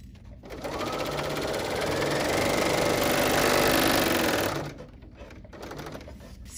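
A Bernina L 850 overlocker sewing a 3-thread overcast stitch runs as a fast, steady mechanical whir for about four seconds, close and loud, then stops and leaves quiet handling noise.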